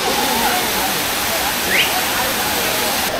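A man-made bathing waterfall at Siruvani, in a forest near Coimbatore, roars in a steady, loud, close wash of falling water that continues without a break.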